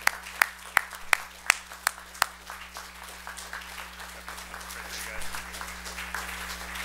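In a Mennonite church, a congregation's round of applause starts with several loud, distinct nearby claps, then thins into a softer, scattered patter of clapping with faint murmuring.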